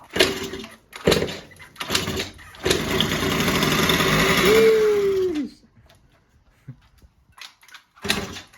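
A 1989 Yamaha Prebug 70cc engine is cranked a few times, catches with a rough buzzing run that revs and dies away, then more cranking pulls follow.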